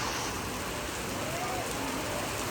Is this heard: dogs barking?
no